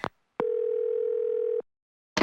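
Steady telephone dial tone from the Clock Tower horror game on PS1, droning alone for about a second after the line goes dead, bracketed by short clicks.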